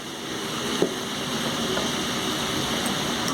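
Previously fried potatoes go into a pan of sizzling spice mix, cooked with sugar for a Bengali Rui fish curry: a steady, close hiss of frying with a brief soft thump as they drop in.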